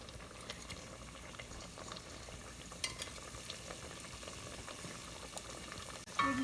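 Sweet potato pieces frying in melted, caramelizing sugar in a pan, a soft steady bubbling sizzle with faint stirring scrapes and a sharper clatter near the end.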